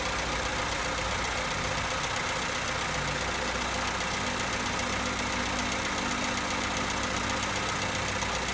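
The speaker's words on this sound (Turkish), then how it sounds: "Saat yönüne doğru çevirdiğim zaman rölantinin düştüğünü görüyorsunuz." A car engine idling while its idle valve is adjusted, a steady mid-low hum with faint knocking that runs without pause, heard close and alone with no voices.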